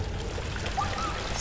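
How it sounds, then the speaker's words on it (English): Water being poured into a pipe in the video game Amnesia: The Dark Descent, a steady close trickling pour that runs on alone without talk. "so I dump the water in"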